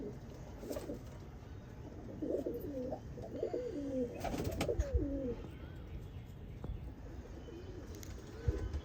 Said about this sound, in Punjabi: ਕੁਝ ਨਵੇਂ ਕਬੂਤਰ ਜਿਹੜੇ ਪੱਕੇ ਕਰਨੇ ਉਹ ਛੱਡੇ ਹੋਏ ਆ